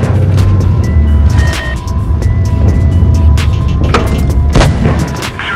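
Tank cannon shots and rumbling engines in World of Tanks Blitz, with several sharp, booming blasts over a continuous loud mechanical drone, firing at irregular intervals.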